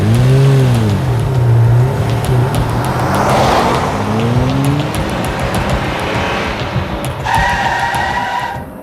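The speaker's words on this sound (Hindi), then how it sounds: "जल्दी गाड़ी घुमा और जल्दी घर चल, लेट करा दी खामा।" A car engine rumbles and revs loudly nearby, then pulls away with rising pitch and a brief tire squeal before fading.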